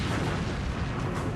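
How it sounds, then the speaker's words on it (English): A deep, sustained roar of heavy naval gunfire from the battleship Bismarck's eight 15-inch guns, loud and rumbling with no separate shots standing out. "Bismarck fires her 8 15-inch guns,"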